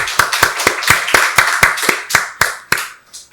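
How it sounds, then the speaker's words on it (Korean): A church congregation claps in unison during a Sunday worship service, about a dozen sharp, evenly spaced hand claps in a steady rhythm, close and loud, with no talking. "박수로 하나님께 영광 돌리겠습니다."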